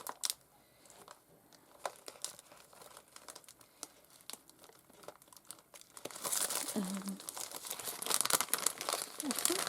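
Crinkly paper from a Taperlogy craft supply pack is handled close up, with steady rustling and crumpling that grows louder and denser toward the end.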